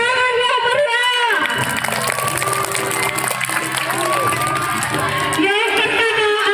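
An audience at a village Independence Day celebration in Pulau Kampai claps and cheers loudly for junior high students acting as seven generals in a G30S/PKI drama. The applause is dense and continuous, with shouts and whoops throughout.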